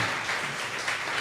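A church congregation at a communion service applauds, giving a steady wash of many hands clapping at once with no break, filling the hall.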